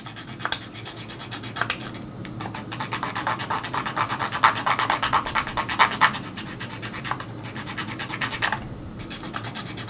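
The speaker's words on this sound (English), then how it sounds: "just gently remove the excess acrylic paint, and the enamel brick paint underneath will begin to show through" Rubbing and scrubbing on model brick as thinner lifts excess acrylic paint off enamel brick paint for a scratch-built block of flats, a steady rhythmic close scratching that swells louder midway, alone without talk.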